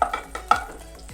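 Chopped banana pieces are stirred in hot ghee in a pan, giving a few soft scraping strokes and light sizzling taps at close range with no voices.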